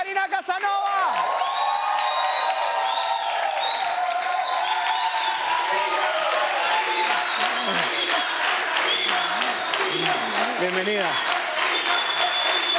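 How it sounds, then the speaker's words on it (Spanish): A television studio audience applauds and cheers to welcome a guest, with loud sustained clapping, whoops and shouts mixed with excited voices and a short spoken greeting. "¡Recibamos con un fuerte aplauso a Ana Karina Casanova!"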